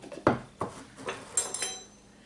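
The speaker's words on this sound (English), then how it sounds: "And we're going to stir it" Molasses thinned with hot baking soda water is stirred in a cup with a spoon, giving a few distinct clinks against the cup sides spaced about half a second apart, close and fairly quiet.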